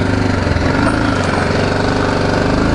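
BMW G310GS single-cylinder motorcycle climbing uphill into an open paddock, with a loud, steady, close engine thrum and a rapid pulsing beat continuing throughout.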